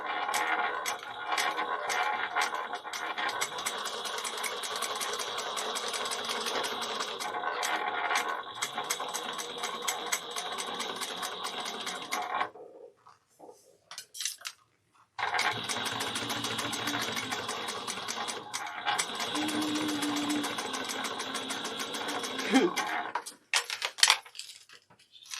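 A sewing machine backstitches a seam on a Kandu bag, whirring in a dense, rattling run that stops for a couple of seconds before stitching resumes close by.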